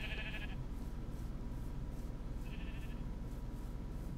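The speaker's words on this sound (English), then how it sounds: "Look at all these sheep." Minecraft sheep bleat twice, a short nasal call near the start and another midway, over a steady low background hum in the game.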